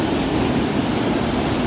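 Swollen river waterfall after heavy rain, a loud steady rushing roar of falling water, close and unbroken with no talk.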